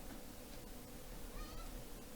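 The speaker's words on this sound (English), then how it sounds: "My cat." A house cat lets out one faint, brief meow partway through, nearly buried in a hissy room background.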